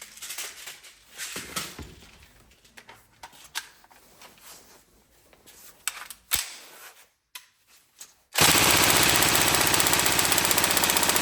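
A Tokyo Marui AK Storm electric airsoft rifle fires at a high rate: scattered clicks and handling noise, then a loud, steady buzzing full-auto burst lasting several seconds.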